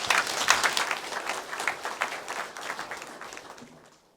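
A church congregation applauds a choir loudly, dense clapping that gradually fades out toward the end.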